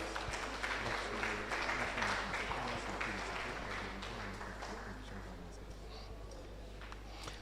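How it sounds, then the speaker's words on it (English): An audience claps for a lecturer at an entrepreneurship and innovation lecture, a moderate patter of applause that fades gradually beneath a steady hum and some murmuring voices. "another round of applause for Dr. Egbeshola"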